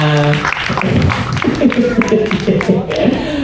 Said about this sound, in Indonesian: Enggak lah, tepuk tangannya mana?